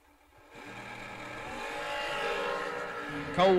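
A drag racing car at the start line of a bracket racing event builds from silence into a loud, rising engine roar that swells over a few seconds, with a sharp burst at the end.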